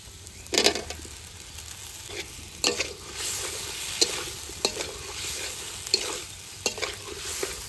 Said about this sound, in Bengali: ভাজা আলু দিয়ে একটু নাড়াচাড়া দিয়ে জল দিয়ে দেবো